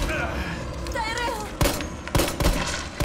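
A big gun fires in Resident Evil 3 Remake: several loud, sharp shots in the second half, breaking out after a stretch of game ambience.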